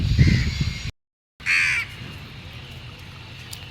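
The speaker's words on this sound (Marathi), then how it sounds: "कावळे 100पेक्षा जास्त कावळे आहेत इथे" Crows caw loudly at close range in a flock of more than a hundred, two harsh bursts separated by a brief silent gap, over low outdoor background noise.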